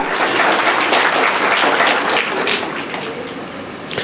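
Loud, dense applause from an audience at a Bharatanatyam dance performance, steady and continuous for several seconds before easing slightly toward the end.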